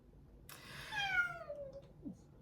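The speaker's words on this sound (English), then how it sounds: "I don't know what to do with his meowing." A house cat gives a single drawn-out meow that slides downward in pitch, fairly faint and close, against a quiet background.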